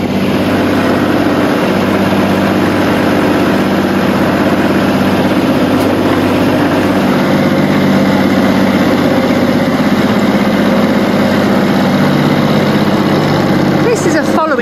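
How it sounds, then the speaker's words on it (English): A sailboat's engine motors on with the sails stowed in a big sea swell, a loud, close, continuous drone with a steady throb, with people talking over it. "So we've had to put the sails away and motor."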